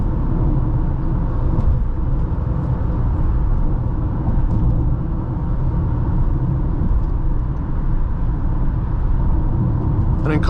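Inside a 2016 Honda Accord EX-L V6 on the move, a steady low road rumble and engine drone fill the cabin at constant level, with faint ticks and a brief higher sound near the end.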